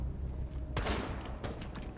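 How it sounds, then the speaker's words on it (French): Two sharp bursts of gunfire ring out in the PS4 game Rainbow Six Siege during ranked multiplayer, each a loud crack with a short rattling tail over a low background hum. "elle me tire dessus, hein."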